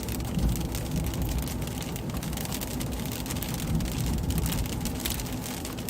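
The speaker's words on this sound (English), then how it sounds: "It is raining here, as you can hear, although not nearly as heavily as the radar would suggest." Steady rain falls during an Arizona monsoon storm, a moderate, even hiss of drops that holds at the same level for the whole stretch with no voices.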